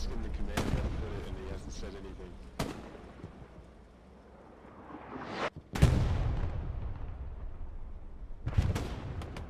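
Artillery shells firing and impacting in the World War II shooter game Hell Let Loose on the Carentan map, with loud booming blasts and sharp cracks spread across the clip amid rumbling battlefield noise.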